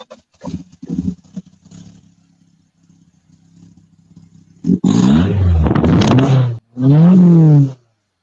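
A small Caterham 7 sports car engine idles in sunny Tenerife, its low burble fading quietly before two loud, close revs flare up sharply and cut off.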